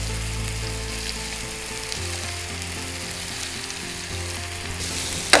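Broad beans sizzle steadily in a pan for a spicy chicken curry with vegetables, a continuous close frying hiss with faint stirring underneath.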